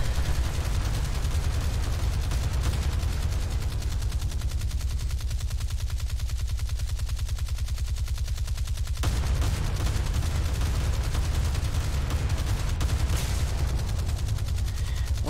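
Stock 40mm anti-aircraft guns on a warship in a naval video game, firing continuously in rapid, dense bursts that stay loud throughout, with a brief lull in the middle before resuming.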